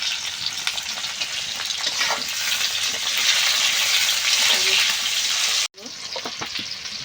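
Onion, tomato and green chilli frying in oil for a Bengali chicken potato curry, a loud continuous sizzle with stirring scrapes, cut off briefly near the end before resuming.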